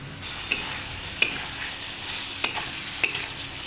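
Boiled soybean chunks and potato hitting hot spiced oil, a steady broadband sizzle with four sharp spoon clacks against the pan spaced about a second apart, close and moderately loud.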